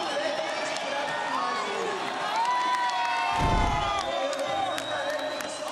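Spectators at an SLS Super Crown street skateboarding contest in Rio de Janeiro cheer and whoop, with sustained crowd noise, scattered shouts and an announcer talking over it, plus a brief deep thump near the middle.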